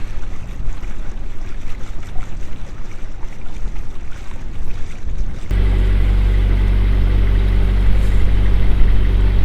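A boat cruising on the River Severn: a steady engine drone with water rush and wind, growing into a denser, deeper hum with strong low tones partway through.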